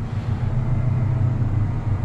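Steady engine rumble of a tractor-drawn forage wagon during maize harvest, a continuous low drone holding close and even for the whole stretch, with no voices.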